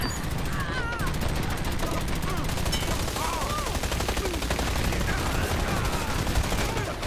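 Dense automatic gunfire in the online shooter Dirty Bomb, continuous rapid bursts layered over a constant roar of game noise, with faint voices underneath.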